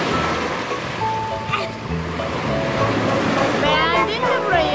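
Sea waves wash onto a beach at Phaselis in Antalya, a steady broad surf wash that swells louder toward the end, with people talking over it throughout.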